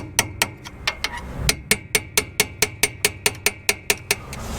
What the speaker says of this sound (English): So I'm just going to gently tap this back with a dirty punch.